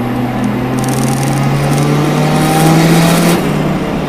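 Budget turbocharged car accelerating hard as turbo boost builds, a loud close engine roar with a rising revving tone and a high whine on top, continuous with no talking.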